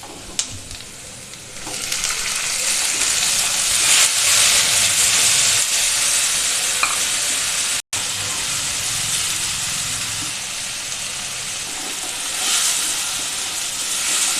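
Tomatoes fry and are stirred in a hot pan for Odia baigana bhartta, giving a steady loud sizzle and hiss with brief scraping stirs and one short break.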